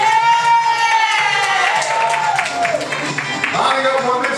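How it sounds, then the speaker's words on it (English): Studio audience at a Christian-themed Family Feud game show cheers and shouts loudly, with excited voices and some clapping filling the whole clip. "Give them a hand. And give applause to those."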